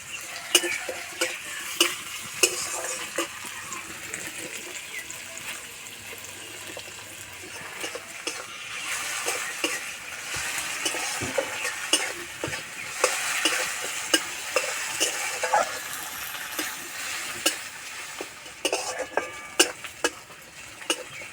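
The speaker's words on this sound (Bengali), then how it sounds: "অল্প একটু নুন দেবো তাহলে তাড়াতাড়ি ভাজা হয়ে যাবে" Onion fries with a pinch of salt in a pan, giving a continuous close sizzle broken by frequent scraping and clattering stirs of a spoon against the metal, with no voices.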